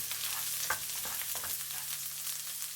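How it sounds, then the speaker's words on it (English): Grated ginger and chopped garlic fry in hot vegetable oil with a soft, steady sizzle, broken by a few light stirring clicks and scrapes, fairly quiet and close. "When the oil is hot, put half the grated ginger and half the chopped garlic. Stir from time to time."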